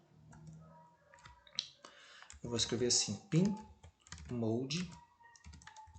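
Clicky keystrokes of someone typing code on a computer keyboard tap along steadily under someone speaking Portuguese close by.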